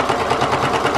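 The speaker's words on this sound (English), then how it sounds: "So take it to your sewing machine" A sewing machine runs steadily while top stitching across a boxy makeup bag, with a loud, even mechanical whir and rapid needle chatter from start to finish.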